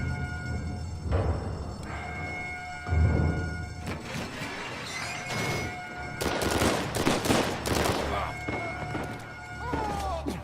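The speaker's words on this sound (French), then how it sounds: "Putain, je tire dans le vide." Gunfire in the Uncharted 4 video game, bursts of shots and impacts scattered through a noisy firefight, with game dialogue and a voice talking over the clatter.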